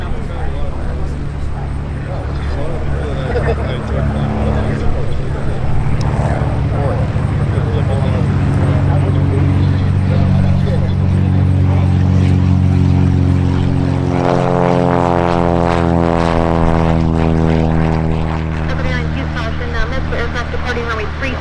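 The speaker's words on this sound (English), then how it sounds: "Aircraft departing runway 36 left" A propeller plane departs runway 36 left at Oshkosh during EAA AirVenture, its steady loud engine drone building and shifting pitch as it passes, with voices talking over it.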